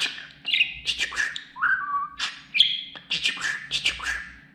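A pet budgerigar chirps and warbles close by, with rapid, irregular bursts of sharp tweets and short whistled trills packed tightly together and no pauses.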